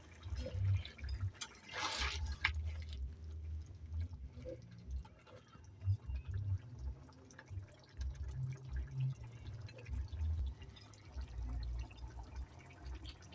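Chicken kebab pieces boiling in liquid in a pot, a low, steady bubbling and gurgling heard close up, with a brief sharper splash early on.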